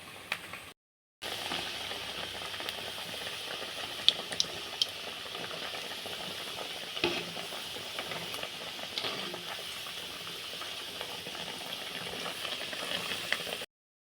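Steady crackling sizzle of sabudana vada frying in hot oil, continuous and close, with small pops scattered throughout and no talking.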